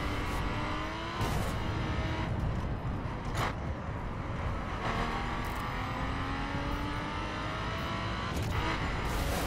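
A car drives in the racing video game The Crew, its engine roaring loud and steady throughout with pitch sweeps as it revs and shifts gears, plus brief bursts of tire or wind noise.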